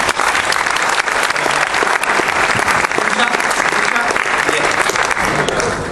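A hall audience at the Ekoparty security conference gives a strong, sustained round of applause for Sergio, loud, thick clapping from many people running evenly throughout, with faint crowd voices underneath.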